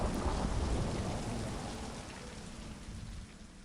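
Thunderstorm at sea with heavy, steady rain and a deep rumble of thunder, loud and continuous throughout, slowly easing slightly toward the end with no voices.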